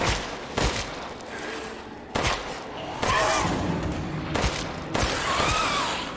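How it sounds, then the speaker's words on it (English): A pipe bomb goes off in Resident Evil Village at Castle Dimitrescu, a string of loud, sharp blasts at irregular intervals, each a broadband crack with a rumbling tail over gunfire-like bursts. "Pipe bomb."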